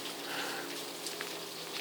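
Rain falls steadily as a dense, even hiss of drops on a surface, continuous and fairly loud with no voices.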